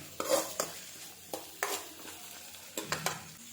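Chapati upma frying in a pan until pale yellow, soft sizzling under a series of sharp spoon scrapes and stirs against the pan, several irregular bursts close by.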